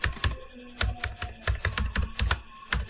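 Rapid, irregular keystrokes on a computer keyboard while writing machine-learning code for a linear regression model, close and crisp, with a steady run of clicks and no talking.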